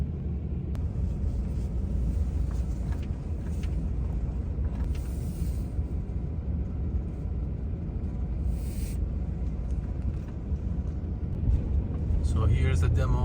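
Inside a car driving on a road, a steady low engine and tire rumble runs throughout, with a brief louder swell near the end.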